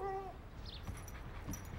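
A dog whimpers in a cartoon scene, a short high whine at the start fading into quiet background sound.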